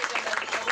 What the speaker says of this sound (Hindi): फिर से तालियां बजाएं प्रभु